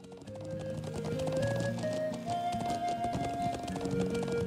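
A horse in the game Trails of Cold Steel gallops with a rapid, even clatter of hooves. The hoofbeats sit under a melodic background music track and hold a steady pace throughout.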